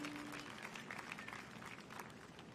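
Audience applause at an outdoor Greenwich House Music School picnic concert, a dense patter of many hands clapping steadily at a moderate distance, fairly quiet, with a brief tonal hum at the start.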